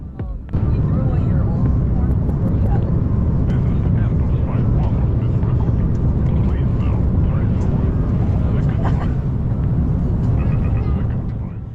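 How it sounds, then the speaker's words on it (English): A loud, constant roar of engines and airflow fills the passenger cabin of an Aircalin airliner landing on the Sydney to Nouméa route, holding steady throughout and easing slightly at the end. "Now please enjoy this unedited landing footage."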